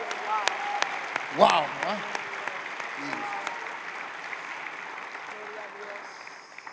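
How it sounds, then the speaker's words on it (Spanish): A church congregation applauds at a Christmas service, a steady wash of clapping with voices calling out over it, exclamations and cheers punctuating the sound before it slowly fades. "Aplausos a Cristo."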